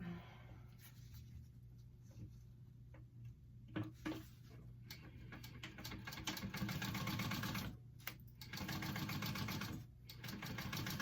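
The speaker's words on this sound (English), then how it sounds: "folded my raw edges in, and we are going to sew that up" A sewing machine sews folded raw fabric edges of a clutch bag, quiet at first and then a steady, close mechanical whirring with a rapid ticking needle rhythm, pausing briefly near the end.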